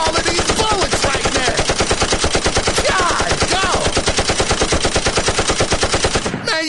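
Sustained rapid-fire automatic gunfire in a video game, an entire magazine emptied in one unbroken, loud, dense stream of shots lasting the whole stretch before cutting off abruptly.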